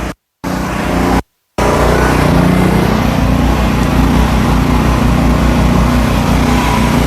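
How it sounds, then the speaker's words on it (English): A power washer's small engine runs steadily with a loud, continuous buzzing drone and cuts out briefly twice near the start, heard close during a tire coating test. "let's hit it with the power washer"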